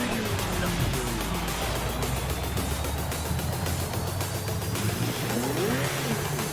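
A car in the Forza Horizon 5 racing game slides out while its engine drones on under a constant wash of road and tyre noise, steady and moderately loud throughout.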